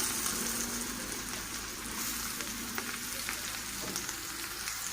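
Thinly sliced onions frying in a pan in a home kitchen, a steady, soft sizzling crackle that holds evenly throughout, fairly quiet and close with no voices.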